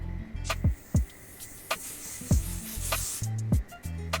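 Adhesive spray hissing onto a wig cap around the ears in a few short repeated bursts, close and fairly loud, with soft handling thumps between sprays.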